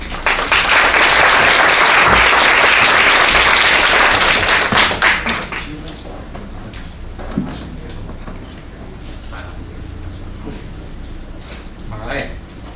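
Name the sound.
audience applause welcoming presenters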